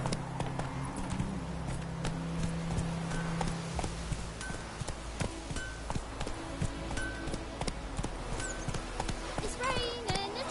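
A horse trotting in The Witcher 3, steady rhythmic clip-clop of hooves close by over ambient game sound, with a voice speaking over it.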